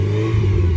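A 1987 Volkswagen Golf GTI MK2 hot hatch with an aftermarket exhaust gives a loud, steady engine drone up close, brief and unbroken with no voices.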